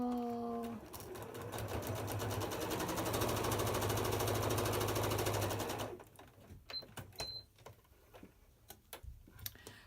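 A sewing machine stitching quilt pieces with quarter-curve seams runs in a fast, even mechanical rhythm for about six seconds, then stops, leaving a few light clicks and handling sounds.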